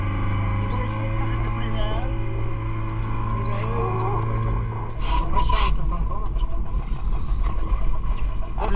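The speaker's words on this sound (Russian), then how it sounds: "Чтобы не напугать жителей сказочного королевства звуками мотора, нам придется попрощаться и с нашим зодиаком." An inflatable Zodiac boat's outboard motor hums with a steady, tonal drone on a dive trip off Hurghada, joined after a few seconds by louder splashing and rushing water noise.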